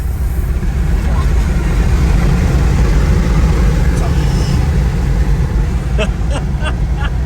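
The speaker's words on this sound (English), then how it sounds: "Here comes the car." Tesla Plaid car approaching during a crowded event day, heard as a loud, steady low rumble with a broad roar and voices around it, and a few sharp clicks near the end.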